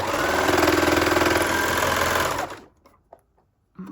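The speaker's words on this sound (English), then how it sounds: "Fold it in half and sew it together into a tube." A sewing machine runs fast and loud up close, stitching fabric into a tube in a steady rapid hum, then stops abruptly, leaving a few faint handling clicks.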